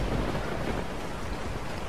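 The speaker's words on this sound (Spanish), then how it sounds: "Bueno, se está la lluvia." Steady rain hisses across the whole stretch in the video game Resident Evil 4, a dense, even wash of falling water with no talk over it.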